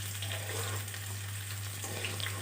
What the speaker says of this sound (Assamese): এনেদৰে লৰাই লৈ অকণমান ৰঙচুৱা কৰালৈকে ভাজিব লাগিব